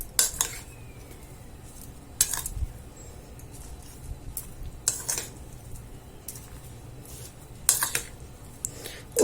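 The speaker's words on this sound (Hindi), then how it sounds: "उसके बाद इसमें 1 टेबल स्पून नमक डालेंगे और इसे मिक्स कर देंगे" Bitter gourd pieces are mixed with salt in a bowl, giving soft scraping with a few sharp spoon-on-bowl clinks spaced irregularly, quiet and close with no talking.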